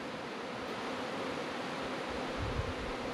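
A loud, dense buzzing of bees swarming up from a freshly opened honey hive, a close, steady drone filling the air with no voices.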